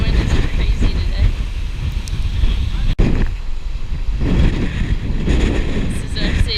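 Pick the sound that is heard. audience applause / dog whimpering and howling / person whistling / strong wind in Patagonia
strong wind in Patagonia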